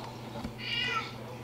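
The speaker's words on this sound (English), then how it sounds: "that's the cat outside" A cat meowing outside, a single short cry, moderately faint and somewhat distant against a low background hum.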